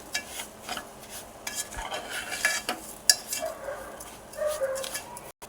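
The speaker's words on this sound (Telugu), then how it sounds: "ఇప్పుడు ఇవి రెండు మంచిగా మిక్స్ అయ్యి మొత్తం గోల్డ్ కలర్ వచ్చేలాగా వేయించుకోవాలి" Semolina and sugar are stirred and roasted in a pan for rava halwa, a spoon scraping and clinking against the metal in irregular, close strokes, with a soft dry sizzle underneath.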